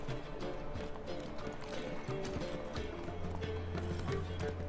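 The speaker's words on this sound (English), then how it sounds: "Oh yeah, let's summon our horse." Roach, a horse summoned in The Witcher 3, trots with a steady clip-clop of hooves amid game ambience, a brief whinny-like tone and a low sustained hum rising near the end.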